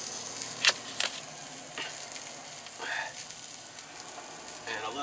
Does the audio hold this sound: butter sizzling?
yes